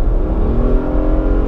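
A 2015 Nissan Murano with a CVT pulls hard at full throttle, its engine a loud, close, steady drone with rising harmonics, heard from inside the cabin.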